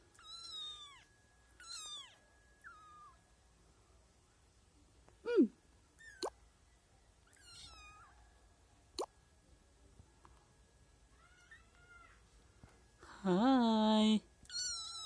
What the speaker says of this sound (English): Two beautiful kittens.